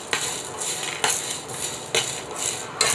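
Bay leaves and whole spices are dry-roasted in a pan for pav bhaji masala, with a dry, rattling scrape and shuffle that swells in regular bursts about once a second as the pan is stirred or tossed.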